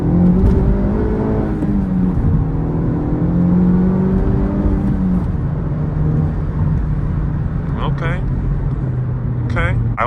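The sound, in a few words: Honda Civic Type R FL5 car driving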